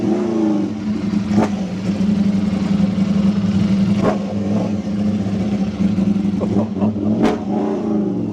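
A Street Fighter motorcycle engine idles loudly, punctuated by three sharp revs spaced a few seconds apart, each rising and falling quickly.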